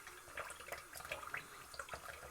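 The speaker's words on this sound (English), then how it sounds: "Got a little drippage going on there." Shaving lather drips and runs into a sink during a traditional wet head shave, giving soft, irregular watery patters and splashes at close range, fairly quiet, with no talk.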